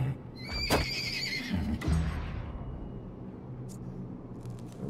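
A horse in the video game Wartales whinnies loudly with a bright, wavering call, followed by lighter movement sounds and a quieter background.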